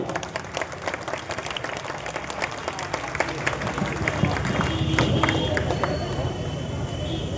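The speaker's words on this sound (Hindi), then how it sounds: "सैफ पठान के लिए जोरदार तालियां।" Loud applause from an audience at a speech in Mumbra, dense crowd clapping with scattered sharper claps and background chatter, building slightly toward the end.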